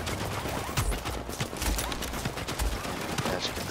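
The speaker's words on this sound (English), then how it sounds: "I'm taking fire from that turret" Automated turret gunfire in The Division at a Hudson refugee camp, dense rapid bursts of shots with sharp cracks and low thumps, loud and continuous under game ambience.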